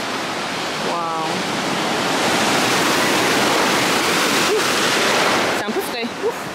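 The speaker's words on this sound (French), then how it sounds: "Il y a des gens qui essaient d'aller dans la mer et je vois à quel point les vagues sont fortes." Strong sea waves breaking on a beach, a loud, steady roar of surf with a faint voice and a few small sounds at the end.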